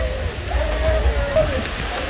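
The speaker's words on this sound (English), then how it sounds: "Oh, water coming from everywhere." Water splashes and pours at a water park pool, a steady rushing wash of falling water close by, with voices and faint shouts mixed in.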